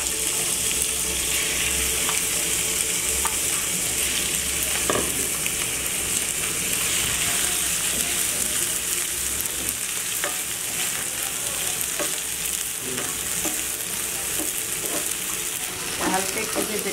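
Prawns coated in turmeric and salt frying lightly in a pan, giving a dense, steady hiss of sizzling oil with occasional spatters and stirring scrapes, close and constant throughout.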